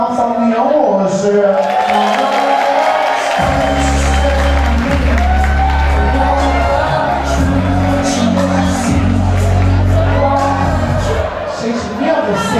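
Nightclub show audience at Blue Space breaks into loud clapping, cheering and whoops, a dense crowd roar with shouts over heavy bass music for the whole stretch.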